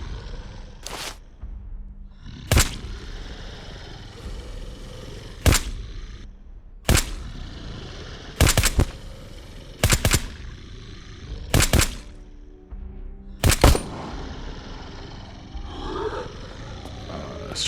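Guns fire at a zombie in the survival game SurrounDead, with about nine loud, sharp shots spaced irregularly over a steady rumbling, roaring game backdrop and no talk.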